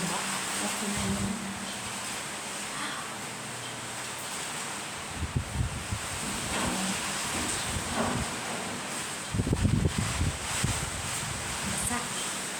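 Heavy typhoon rain in Taiwan pours as a steady broadband roar, broken by two deeper buffeting gusts of wind against the microphone.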